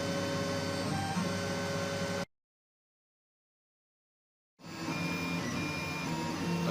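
An AccuCraft i250d 3D printer runs mid-print with a steady mechanical hum and whirring stepper tones, cutting to silence for about two seconds before the same droning resumes.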